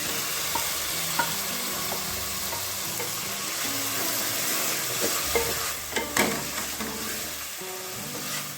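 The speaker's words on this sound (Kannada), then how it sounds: "ಚೆನ್ನಾಗಿ ಫ್ರೈ ಮಾಡ್ಕೊಳ್ಳೋಣ ಟೊಮೆಟೊ ಈರುಳ್ಳಿ ಎಲ್ಲ ಚೆನ್ನಾಗಿ ಫ್ರೈ ಆಗೋ ತನಕ ಬೇಯಿಸ್ಕೊಳ್ಳೋಣ" Onion and tomato sizzle and fry in a pan while a utensil stirs and scrapes through them, a steady close crackle with occasional clinks and no talking.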